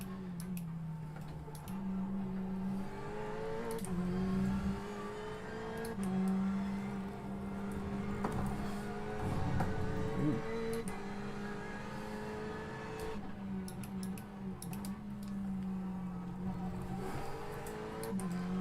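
Ferrari 488 GTE race car at Road America, a steady engine drone with pitch steps as it shifts through gears and brakes, faint ticking clicks scattered on top, fairly quiet, no talk.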